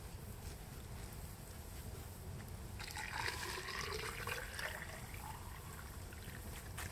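Water poured into a sealed container carved from a log, a soft splashing gurgle that rises midway through against a steady outdoor wind rumble.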